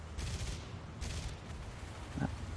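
Aircraft guns in the War Thunder air battle, with the Hurricane and P-39Q Airacobra nearby, fire two short rattling bursts over a steady engine drone, followed by a brief lower thump near the end.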